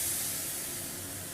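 Hot water hits a hot pan of dry-fried daliya (broken wheat), giving a steady loud sizzling hiss and steam spray that fades slightly over its short length.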